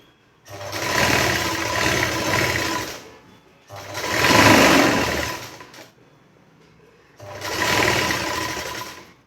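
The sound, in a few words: sewing machine stitching a blouse fitting seam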